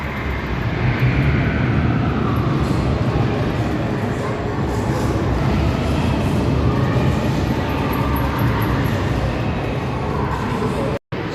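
Steady low rumble of a small ride-on train carrying children through a busy shopping mall in Ankara, continuous and fairly loud with crowd murmur throughout.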